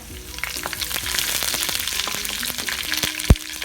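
Dried red chilies and curry leaves crackle and sizzle steadily in hot oil while making coconut rice, with a sharp pop near the end; no voices.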